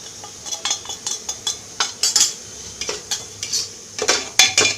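A spoon stirs tempering spices and home-ground chili powder sautéing in a pan for tomato rice, giving repeated scraping clinks against the metal in an uneven rhythm over a soft background sizzle.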